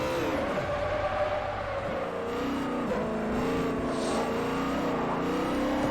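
A 2009 Bugatti in the Forza Motorsport 4 racing game roars steadily at high revs, its engine note sliding up and down through gear shifts, loud and constant throughout with no talk.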